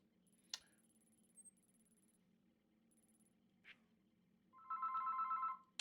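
A phone rings in Batman: Arkham Origins, a short burst of rapid electronic trilling near the end, preceded by a few sparse clicks over a low quiet hum.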